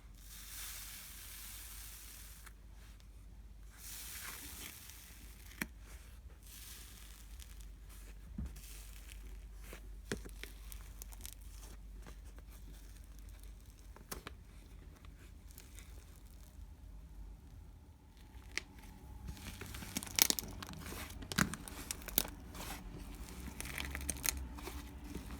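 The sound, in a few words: crunching hardened iceberg slime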